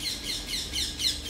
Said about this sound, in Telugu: ఇవాళ మార్నింగ్ నుండి పక్షులు చాలా తిరుగుతున్నాయి